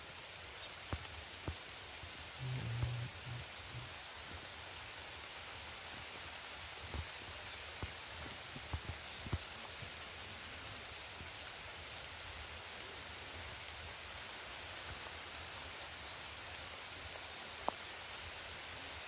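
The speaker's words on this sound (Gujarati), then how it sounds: "સુરતની અંદર ભારે વરસાદ પડી રહ્યો છે" Steady hiss of heavy rain falling continuously in Surat, Gujarat, with occasional faint taps and knocks; no voices.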